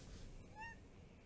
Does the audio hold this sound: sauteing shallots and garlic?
no